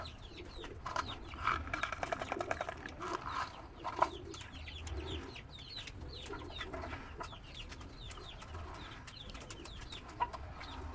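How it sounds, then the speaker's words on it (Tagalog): Chickens, including Rhode Island Reds, clucking softly at a distance at a bird loft, mixed with other bird calls and cooing over a low outdoor rumble. "Papatuka sa mga alaga nating ibon. At saka mga manok."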